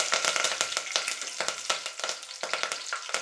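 Garlic and curry leaves spit and crackle in hot oil for a mackerel fish curry, a steady close sizzle broken by bursts of popping as the pan is stirred.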